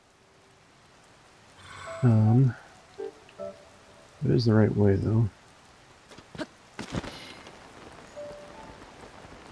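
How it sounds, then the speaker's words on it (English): Steady rain falls in Zelda: Tears of the Kingdom, a soft even hiss running throughout beneath two bursts of someone talking and a few brief clicks. "Oh, of course it's raining."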